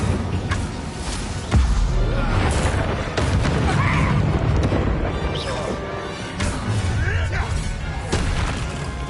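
Booming fire-spell blasts in Hogwarts Legacy, several heavy thuds and crashes spread across the stretch, mixed with a voice talking and game sound.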